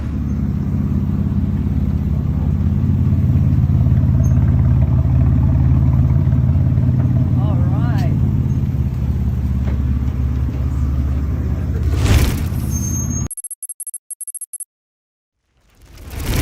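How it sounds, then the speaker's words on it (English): Concept car engine rumbling steadily and loud for over twelve seconds with a faint rev swell, then cutting off abruptly; a brief spoken remark near the end. "You guys, this is a concept car that sounds like that."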